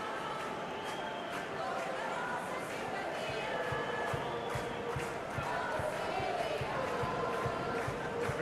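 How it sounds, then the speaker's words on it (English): A stadium crowd in a football video game, before Portugal's national anthem, keeps up a dense, continuous roar of massed voices that never lets up, with a voice carrying over the noise. "The crowd rises for the national anthem of Portugal."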